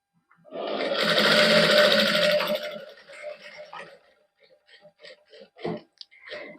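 A sewing machine runs loudly in one continuous burst, stitching fabric along the buckram edge of a neckline, and then stops. Softer clicks and handling noises follow, with some talk nearby.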